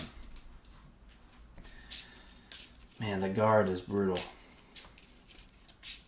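Cards from a Marvel Champions card game deck being shuffled, several crisp riffling bursts at close range, with someone briefly speaking between them.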